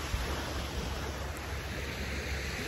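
Sea waves wash on the shore in Greece as a continuous broad roar of surf mixed with wind noise on the microphone, steady and loud throughout with no voices.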